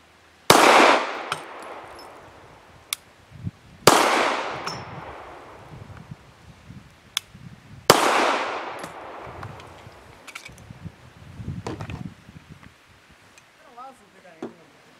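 Three sharp, loud shots from a Zastava CZ 999 pistol fired at targets, each cracking out with a long ringing decay, followed by fainter clinks and handling noise.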